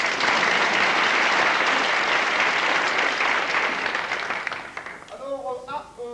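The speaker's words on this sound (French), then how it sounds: "On l'applaudit bien fort, s'il vous plaît." A studio audience applauds a contestant on a game show, loud sustained clapping that tapers off near the end as a host's voice comes in.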